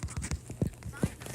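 Horse hooves clip-clop in a quick, steady rhythm in the game Wild Horse Islands, soft and somewhat muffled, with a voice speaking faintly underneath.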